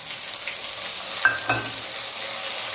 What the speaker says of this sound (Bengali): দিয়ে আমরা মশলাটাকে কষিয়ে নেব